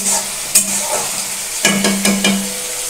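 Chicken sizzles steadily in hot oil for chicken kosha, with a few clattering stirs of a spoon against the pan cutting through the constant close frying hiss.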